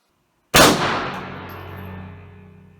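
A single sharp pistol shot from a Bersa Thunder 380 Plus at an outdoor range cracks loudly after a brief silence, then rings out in a long decaying echo with a faint metallic ting.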